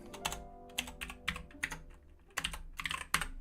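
Typing on a computer keyboard while coding in JavaScript and Python, close and clear, in irregular bursts of quick clacking keystrokes separated by brief pauses, with no talk.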